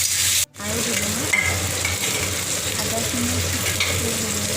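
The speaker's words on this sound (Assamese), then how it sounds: "কলডিলত যেতিয়া এনেকুৱাকৈ ভাজি দিব" Chopped banana flower fries in a pan with a loud, steady sizzle as it is stirred and scraped. The sizzle cuts out briefly near the start, and a quiet voice can be heard beneath it.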